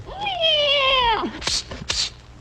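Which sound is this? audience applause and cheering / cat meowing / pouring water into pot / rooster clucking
cat meowing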